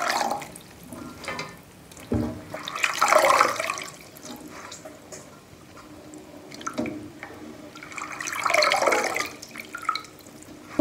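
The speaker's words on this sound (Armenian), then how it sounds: "ջրից հանում ենք ռեհանը ու ցամքոցի մեջ ենք" Basil leaves rinsed in water at a sink, with splashing, dripping and running water coming in uneven bursts; two louder surges stand out and quieter trickles fill the gaps.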